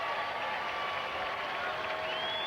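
Crowd noise at a 1994 US Open second-round tennis match between Agassi and Forget, a steady roar of cheering and clapping from the stands that holds throughout, with commentary voices over it.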